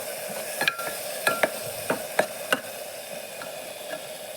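Beetroot and green-pea masala for biryani frying in oil with yogurt, a steady close sizzle broken by several sharp scraping stirs of a spoon against the pan, with no talking.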